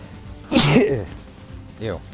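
A single loud, close sneeze from a person during a gaming stream, followed shortly by speech.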